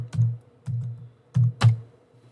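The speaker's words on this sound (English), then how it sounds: "I'm going to type in the name," Keys on a computer keyboard are pressed in four short, close bursts with brief pauses between them, quiet and clear with no talking.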